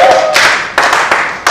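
A crowd clapping in steady bursts of applause at a religious wedding, fairly close and loud, with a faint voice underneath at the start.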